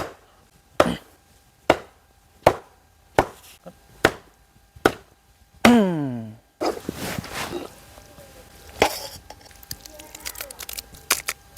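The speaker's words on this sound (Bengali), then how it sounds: "খুব সুন্দর করে লম্বা লম্বা করে নেব ভালো করে পিস পিস করে নেব" Knife chopping cleaned mutton tripe into long strips on a board, about eight sharp, evenly spaced thuds near the mic, followed by a brief squeaky scrape and then busier, irregular handling and cutting noises.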